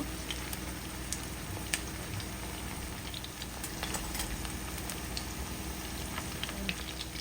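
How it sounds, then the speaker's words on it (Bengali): Prawn kofta balls fry in a pan, making a constant, even sizzle with faint scattered pops throughout and no voices. "তো লাইট গোল্ডেন পর্যন্ত আমি ভেজে নেব কোফতাগুলোকে।"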